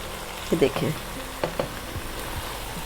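Vegetables stir-fry for Chinese rice, a soft continuous sizzle with a few clattering stirs and utensil knocks near the start, then settling to a quieter fry.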